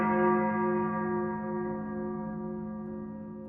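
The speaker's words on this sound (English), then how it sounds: "as the first of Asha is ushered in by the ringing of every bell tower in Thalia." A single deep church bell struck once, its rich layered tone ringing loud and slowly decaying over several seconds with no other sound.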